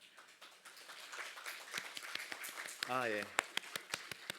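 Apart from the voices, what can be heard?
congregation clapping in welcome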